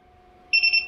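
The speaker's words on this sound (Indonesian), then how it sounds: "Ini nanti ada alarm kalau sudah selesai dan lampunya juga akan padam." A fiber optic fusion splicer's heater alarm signalling that heating is finished: three short, bright electronic beeps in quick succession after a faint hum.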